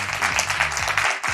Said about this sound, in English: Can the right-hand side of the room give the left-hand side of the room a massive round of applause